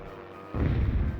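A mortar shell fired in the video game Hogs of War, a single sudden low boom after a quiet start that rolls on briefly.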